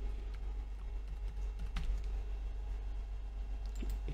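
A password is typed on a computer keyboard, a quick run of light, close key clicks over a low steady hum, with no talking.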